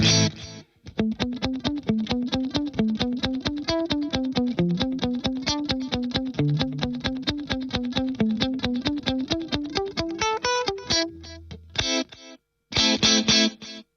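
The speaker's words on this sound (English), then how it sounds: "You have the stereo outputs phase inverted, so it's gonna sound ultra wide." A plucked, distorted synth-like melody repeats in steady rhythmic notes through a Sony rack delay with phase-inverted stereo outputs, giving a wide delayed echo, ending in a few short bursts after a brief pause.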